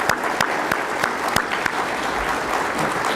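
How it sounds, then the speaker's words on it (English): An audience at a mural unveiling in San Antonio claps steadily for about three seconds, a dense, lively applause in a mid-sized crowd with no voices over it. "Let's give them a round of applause."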